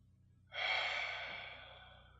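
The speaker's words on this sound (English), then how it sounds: "Taking a deep breath through the nose, exhale out the mouth" A single long, audible exhale out through the mouth during a beginner yoga breathing practice, rising suddenly and then slowly fading, close and alone with no talk.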